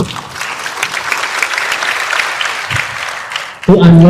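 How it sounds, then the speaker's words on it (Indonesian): Steady audience applause fills a hall during a speech by someone, dense and loud for several seconds before a speaking voice cuts in at the end. "Tepuk tangan gitu."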